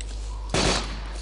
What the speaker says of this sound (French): Des coups de feu tirés à tout va.